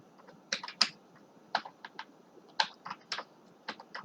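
Someone types a password on a computer keyboard: a close, uneven run of crisp key clicks in short bursts separated by brief pauses, with no voices.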